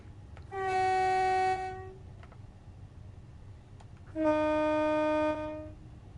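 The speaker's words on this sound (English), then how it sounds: "No loops I could hear in the horns, that's very nice" Two long, loud blasts of a train horn in Train Sim World 3 on a Southeastern high-speed line sound over a low rumble of the moving train, with a pause between them.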